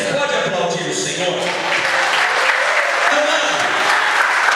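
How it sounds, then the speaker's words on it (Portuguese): A church congregation at a Portuguese-language service applauds together, a loud, dense and steady burst of clapping that fills the whole stretch, with some voices mixed into the crowd noise. "Você pode aplaudir o Senhor?"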